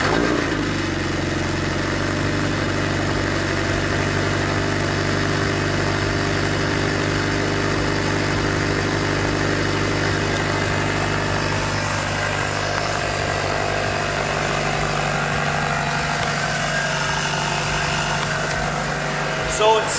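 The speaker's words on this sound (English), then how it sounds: "The cold start is still pretty loud." A Subaru BRZ fitted with an exhaust silencer idles after a cold start, a steady loud low drone with a constant rumbling hum throughout, close to the car.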